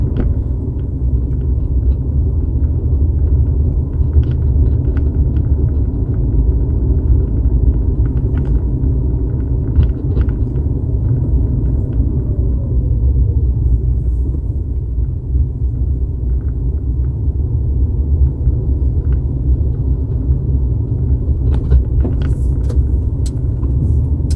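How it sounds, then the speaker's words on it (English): The four-cylinder engine of a 2010 Lexus HS250h hybrid runs with a steady low hum and rumble throughout, loud and close, with a faint higher whine riding over it and no voices. "when you do spin up that 4-cylinder motor, you can definitely hear it"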